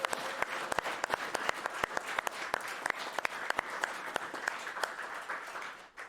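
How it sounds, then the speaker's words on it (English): An audience applauds at the finale of a speedrunning event. The clapping is quiet and sustained, with a few sharper, closer claps standing out from the steady wash of the crowd. "Let's give him a round of applause."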